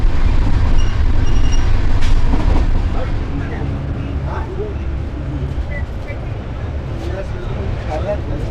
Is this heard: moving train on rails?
yes